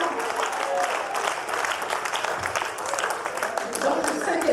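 Church congregation applauding, a dense steady wash of clapping filling the whole stretch with crowd noise, fairly loud throughout, with voices mixed in.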